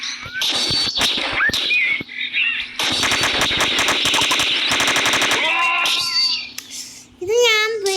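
Automatic gunfire from a machine gun in the multiplayer game Dude Theft Wars, fired in rapid, loud, close bursts with short pauses between them, along with other chirping game sound effects.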